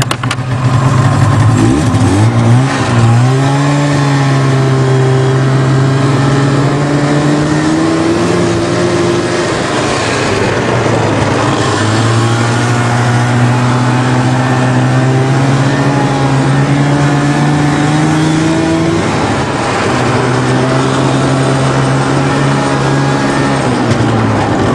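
A 1988 Nissan 4x4 truck engine cold-starts in snow at about minus ten, catching quickly and settling into a loud, steady, slightly wavering idle with a couple of brief revs that rise and fall.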